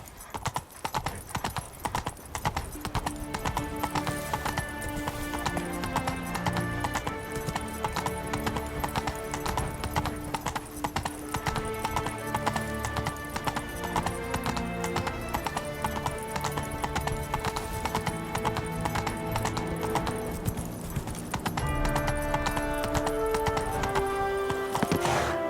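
Steady clip-clopping hooves of Roach, Geralt's horse in the video game The Witcher 3, near and continuous for the whole stretch, under a layer of game music.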